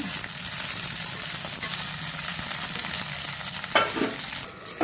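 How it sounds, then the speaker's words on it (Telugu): Okra frying in a pan for a prawn and okra curry, a steady close sizzle throughout with a brief louder scrape or stir near the end; no talking. "బెండకాయలు కొంచెం ఫ్రై చేసేస్తాను ఎందుకంటే జిగురుగా ఉంటాయి కదా పులుసులో వేస్తే"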